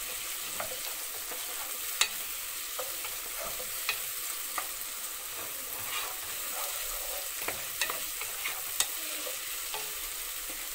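Vegetables and tomato sauté in a pan for a pasta dish, giving a steady close sizzle with occasional scraping stir clicks over it and no talking.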